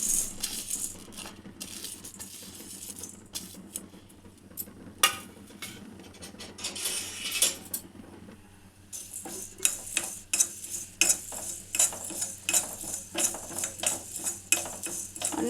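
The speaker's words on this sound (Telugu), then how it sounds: "ఇవన్నీ ఒకసారి అన్నీ ఫ్రై చేసుకోవాలి, ఆయిల్ లేకుండా" Spices and fenugreek are dry roasted in a pan without oil, with rattling, scraping stirs and clinks of the spoon against the metal, near and fairly busy, growing denser toward the end.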